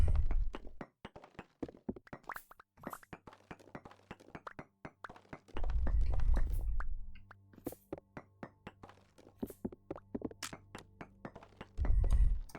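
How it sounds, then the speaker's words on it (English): A fire pit block breaks in Vintage Story amid repeated dull thunks and clinking taps, irregular knocking hits with a few heavier low-pitched crumbling bursts, no talk. "Oh gee, that fire pit broke."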